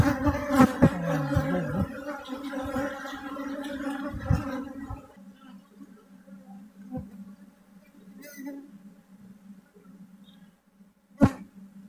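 Honeybees buzzing while a beehive is split, a dense close drone with wavering pitch that drops suddenly to a thinner, fainter hum, broken by a few sharp knocks near the end.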